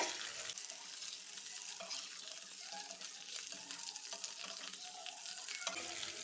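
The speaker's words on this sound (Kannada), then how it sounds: "ಈಗ ಫ್ರೆಂಡ್ಸ್, ಈ ಆಲೂಗಡ್ಡೆ ಹಾಕ್ಕೊಳ್ತೇನೆ. ಇದು ಫ್ರೈ ಮಾಡಬೇಕು ಆಯಿಲ್ ಜೊತೆ." Potato pieces fry in hot oil in a pan, giving a steady, close hiss and sizzle with light stirring scrapes throughout.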